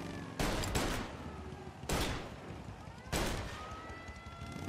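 Three loud gunshot bursts from the Mafia Definitive Edition video game ring out about a second apart in a firefight, each trailing off in a short reverberant decay over game ambience.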